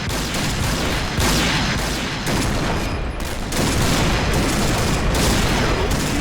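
Dense gunfire in the Point Blank shooter, heavy rifle shots and booms crowding over one another without a break, loud and close, with no talk over it.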